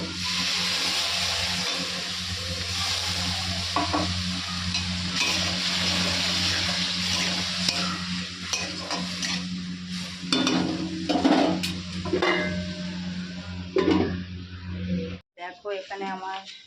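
Spiced fish curry with ground masala paste hissing in a pan after water goes in: a steady, loud broadband sizzle with a low hum and faint background voice, breaking into scattered crackles before cutting off near the end.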